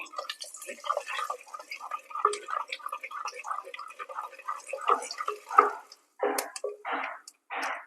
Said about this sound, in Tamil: எண்ணெய் நல்லா சூடாயிடுச்சு இப்போது கடுகு சேர்த்துக்கலாம் இதில் கடுகு நல்லா பொறிஞ்சி வரட்டும்